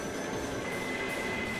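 Subway train from the X-Treme Express racing game rolling on rails, a steady rumbling run with high squealing wheel tones over it, alone and moderately loud.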